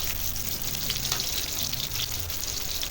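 Minced garlic sizzles and fries steadily in a hot pan with oil at the start of a corned beef sauté, a close, continuous crackling hiss with no voices.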